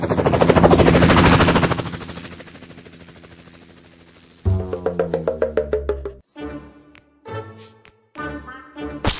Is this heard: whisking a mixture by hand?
no